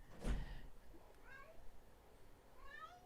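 Indoors, a cat gives several faint, drawn-out meows spread across a few seconds, with quiet room noise and no speech over them.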